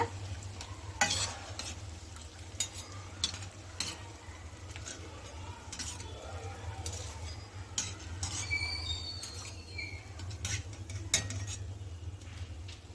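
Mysore bonda fritters deep-fry in oil until golden brown, giving a gentle, steady bubbling sizzle over a low hum. Intermittent clacks and scrapes of a slotted spoon sound close by, with no talking.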